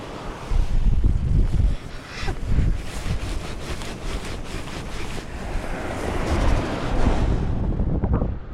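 Waves break on a windy winter beach in Australia, loud and close, with repeated surging crashes and a constant rumble of surf and wind buffeting.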